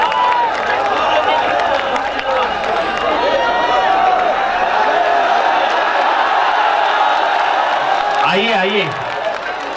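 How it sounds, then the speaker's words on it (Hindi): A mushaira poetry gathering audience breaks into continuous loud applause and cheering, a dense wash of clapping and crowd noise throughout, with a voice briefly calling out near the end. "जोरदार तालियों से इस्तकबाल करें यार"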